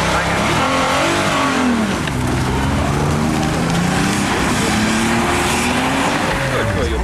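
A crossover SUV engine revs and strains continuously off-road, pitch rising and falling as it works hard, with rough crunching underneath and voices mixed in.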